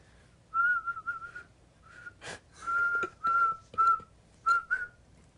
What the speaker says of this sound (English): Can you do it in 5 whistles?